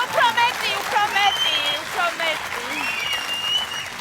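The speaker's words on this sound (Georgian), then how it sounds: "თქვენი აპლოდისმენტების ქვეშ ვიწყებთ დღევანდელ შოუს" An audience at a comedy dance show applauds as a steady wash of clapping beneath a host who speaks loudly and clearly over it.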